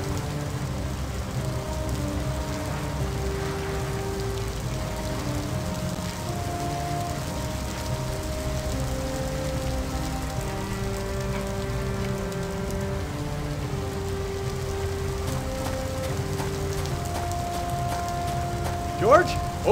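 Steady heavy rain of a hurricane storm pours continuously in a video game, a dense wash of noise running throughout beneath sustained musical tones, with a brief sharper burst near the end.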